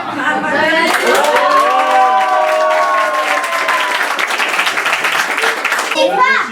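A crowd applauds with steady clapping at a Christmas wafer gathering, with children's voices and some chatter rising over it throughout.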